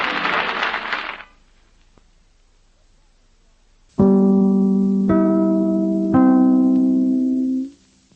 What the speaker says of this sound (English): Three chimes mean good times on NBC.